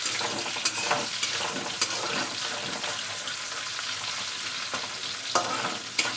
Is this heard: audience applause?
no